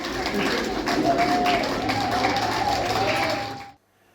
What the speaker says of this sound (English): the expo concluded with a round of applause for guess who?